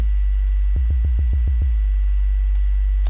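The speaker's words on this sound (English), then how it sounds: "That's just a standard a sine wave." A synthesizer holds a long, steady, deep sine-wave note, with a quick run of six soft low thumps pulsing through the middle.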